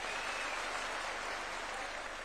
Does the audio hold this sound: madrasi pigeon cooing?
no